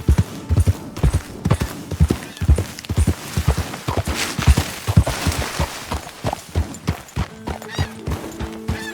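Rapid, steady clip-clop of horse hooves riding in Red Dead Redemption 2, loud and close, with a brief whinny or snort near the end.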